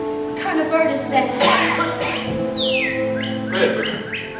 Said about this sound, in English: I thought it was a red bird